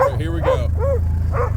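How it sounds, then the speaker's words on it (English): Dogs bark and yip in short loud bursts outdoors on a snowy property, several barks spaced across the moment while a person talks over them. "I apologize for the barking"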